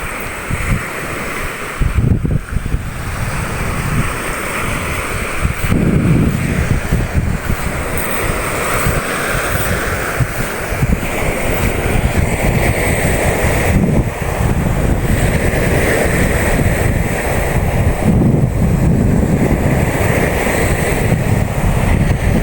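Strong wind buffets the microphone as ocean waves roll and crash continuously onto a beach on a rough morning, loud and steady throughout.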